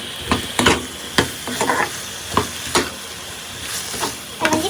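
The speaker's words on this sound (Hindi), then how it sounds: "आलू का आवाज़ मार रहा है" Potatoes for achari aloo fry in a pan with turmeric and red chili, giving a steady close sizzle. Repeated sharp bursts of stirring and scraping rise over the hiss.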